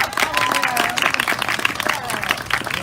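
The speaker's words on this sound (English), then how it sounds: "He deserves a round of applause." Applause from a community meeting audience for an elementary school student receiving a certificate, steady dense clapping that fills the room, with some crowd murmur mixed in.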